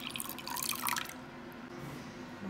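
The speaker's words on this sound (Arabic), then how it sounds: "دحين نحط الموية" Water poured into a bowl of eggs for brownie batter, a close splashing stream for about a second, then quiet room tone.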